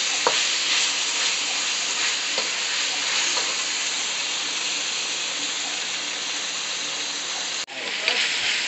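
Beef and peppers sizzle steadily in a hot pan for an Asian pepper steak stir fry, a dense continuous frying hiss with occasional scrapes and stirring clicks, close and loud throughout.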